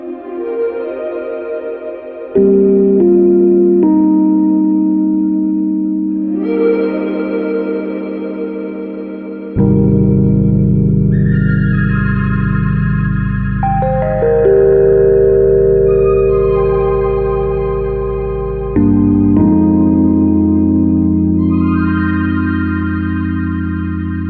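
Evolving Synth preset on the Rhodes Vari-Amp plug-in: loud, swelling synth pad chords change every few seconds, with a rich low end and shimmering upper layers that slowly morph and echo, with no talking.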